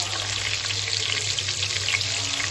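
Whole cumin, cloves and bay leaf sizzle in hot oil with garlic for chicken biryani, a steady close crackling hiss with a low hum beneath, continuous throughout.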